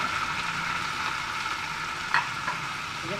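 Tomatoes hit hot oil and green masala in a pan for a ridge gourd (turai) curry, raising a steady, close sizzle throughout, with a brief louder crackle and stir near the end.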